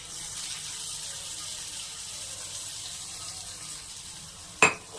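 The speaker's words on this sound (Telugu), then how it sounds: "తాలింపు వేసాను" Spices for a tempering crackle in hot oil for bachali kura dal, a steady hiss close by ending in a sharp clank near the end, with no talking.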